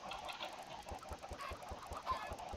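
Chickens cluck softly in a Minecraft Tekkit modpack world, a string of short repeated clucks at low level against faint background noise.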